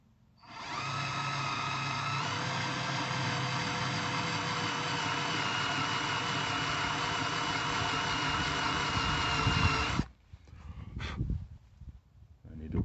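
A cobalt countersink drill bit cuts a bevel into a pilot hole in aluminum, giving a loud, steady drill whine with grinding for about ten seconds. It stops abruptly, leaving scattered handling noise.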